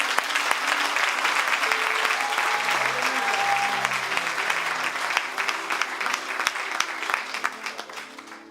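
A worship congregation breaks into sustained applause and cheering, a dense wash of clapping that stays loud and steady before tapering slightly near the end, with no talk over it.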